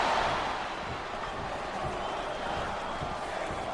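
A capacity arena crowd in the WWE SmackDown vs Raw 2008 wrestling video game roars in a dense, steady wash of cheering, loud and continuous, with faint thuds underneath.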